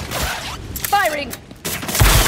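Gunfire in the Spider-Man 2 video game, a burst of shots cutting in and out amid game voices and other effects, brief and partly masked.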